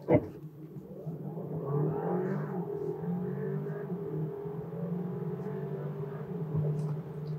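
An Audi Q5 Sportback plug-in hybrid launches from a standstill and accelerates hard, its engine note rising and then holding at a steady, loud roar for several seconds without any talking.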